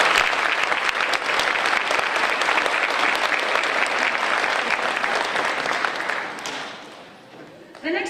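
A school band concert audience applauds honor band students with steady, dense clapping that holds for about six seconds and then tapers off toward the end.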